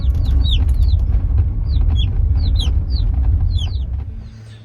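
Baby chicks on a farm chirp in quick, high repeated peeps, many overlapping close by over a loud steady low rumble.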